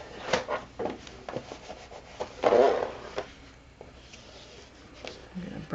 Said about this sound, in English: going to burnish again. Really well.